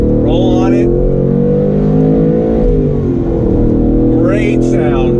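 A 2019 Ford Mustang Bullitt with 480 horsepower and 3.73 gears accelerates in second gear, its engine a loud, deep, steady rumble heard from inside the car while someone talks over it.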